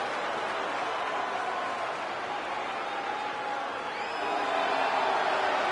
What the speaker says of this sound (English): the crowd is cheering for these two